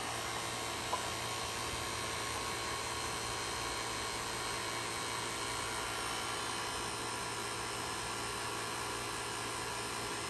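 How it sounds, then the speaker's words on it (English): A vacuum pump pulls vacuum on an HVAC line set and indoor coil, producing a steady, even motor drone and hum that runs unbroken throughout with no talking. "it's going to pull vacuum on the line set and the coil on the inside"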